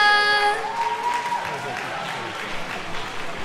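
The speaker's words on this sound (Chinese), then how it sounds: "请大家再给他们热烈的掌声" Warm applause from the audience closing a school music concert, a broad patter of many hands at moderate loudness, with a held musical tone fading out at the start and voices faintly under the clapping.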